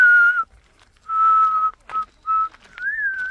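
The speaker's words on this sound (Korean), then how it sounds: "아롱이 아까 전에 휘파람 하도 불어가지고" A talking parrot whistles in several clear, sustained tones separated by pauses, the last one wavering, close by and without speech.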